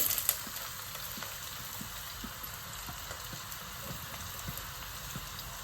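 Finely chopped onions fry in hot oil with cloves and cardamom, a quiet, even crackling hiss with faint regular ticks and a soft clatter at the start.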